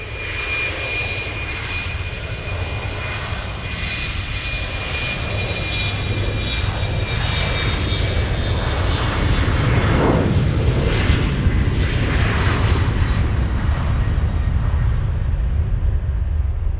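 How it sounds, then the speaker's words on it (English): A LOT Polish Airlines Embraer E195 jet takes off from Munich airport, bound for Warsaw, its engine roar loud and sustained, swelling gradually as the aircraft powers down the runway. "let's go for the next takeoff. Yeah, it's the Polish. It's the lot E195"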